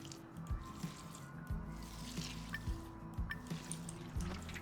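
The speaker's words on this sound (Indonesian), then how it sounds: "Dan juga disiram pastinya tanamannya." Water poured from a watering can onto plants in the survival game Among Trees, heard as a steady series of soft drips and splashes over a low background hum, with no talking.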